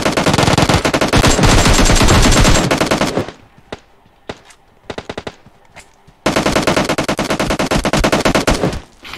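AK rifle fire in a video game: loud, rapid automatic bursts at close range, then a pause with a few scattered shots before another long burst of sustained fire.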